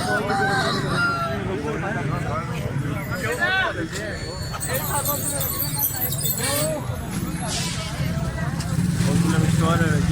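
Chickens and roosters at a busy poultry market, Sil Murga Mandi in Raja Bazaar, fill the air with continuous overlapping clucks, squawks and crowing, near and loud, while crowd chatter and voices run underneath throughout.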